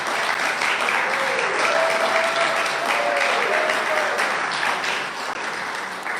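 Steady crowd applause at an annual membership meeting fills the space, a dense, even wash of clapping that holds strong for about six seconds and eases slightly toward the end.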